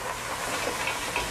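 Mussels steaming in white wine in a hot pan give a steady, close sizzling hiss that holds at an even level throughout, with no voices over it.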